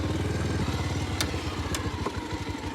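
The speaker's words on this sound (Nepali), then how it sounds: "त्यो बाइक हो" A motorcycle engine chugs close by in a steady low pulsing rhythm on a rural road trip, with a few sharp clicks and clatters over the running motor.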